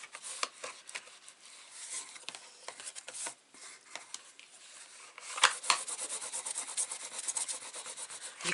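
Bone folder rubbed firmly across folded paper for a gift box, giving close, dry scraping strokes in a steady back-and-forth rhythm that gets louder and brisker toward the end.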